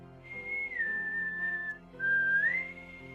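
Two clear, loud whistled tones from a person, a long held note that slides down and then a second note that rises, with no talking.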